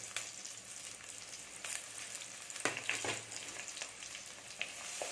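Onions and green chillies fry in sesame oil, giving a steady, fairly quiet sizzle with a few clicks and taps from stirring scattered throughout.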